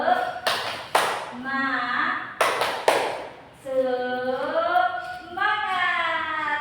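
A class of children claps a short rhythmic spirit-building pattern, sharp grouped claps in two bursts, between chanted voices in a special-needs classroom.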